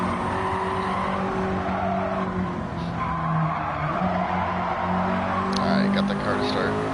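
Race car tires skid and squeal in a four-wheel slide in Gran Turismo 7, a steady loud engine drone with scrubbing tire noise running the whole way through, while someone talks over it.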